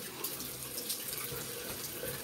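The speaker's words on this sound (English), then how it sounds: "I'm going to use cold water, chilly water, to wash my face." Bathroom tap running cold water into a sink for rinsing a face, a steady close splashing hiss with no talk.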